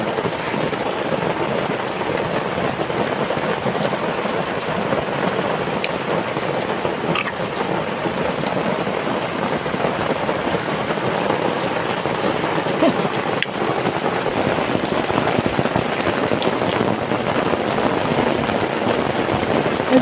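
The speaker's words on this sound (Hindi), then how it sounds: "बारिश तो रुकी नहीं" Steady, heavy rain falling outdoors in Almora, a dense continuous hiss of drops at close range with faint low rumbles mixed in.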